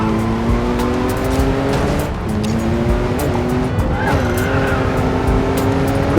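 A race car in the mobile racing game Racing Master drifts on the handbrake, its loud engine whining and gliding in pitch as the tires squeal through the slide.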